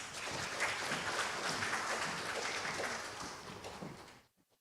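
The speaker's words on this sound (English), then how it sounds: "Please give them a round of applause." A round of applause from the audience at an environment and transition summit, dense sustained clapping from many hands that holds steady, then stops abruptly with a few faint trailing claps.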